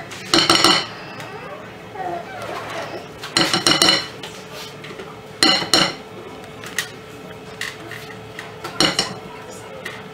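Lemon cheesecake mixtures being combined in a bowl, with sharp clinks and scrapes of a utensil against the bowl in separate bursts every couple of seconds, close and fairly loud over a quiet room.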